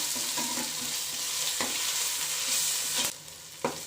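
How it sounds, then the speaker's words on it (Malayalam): Two tablespoons of garlic paste stirred and fried in a pan, a steady dense sizzle with occasional scraping strokes of the spoon, close and continuous, easing slightly near the end. "ഇതിൻ്റെ ഒരു പച്ചമണം മണന്ന വരെ നമുക്കൊന്ന് മിക്സ് ചെയ്ത് കൊടുക്കാം."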